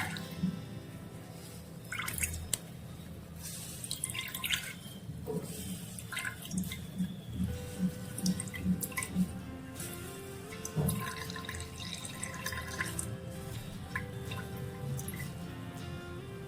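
Water dripping and trickling close by, many small drops falling in a steady, uneven patter.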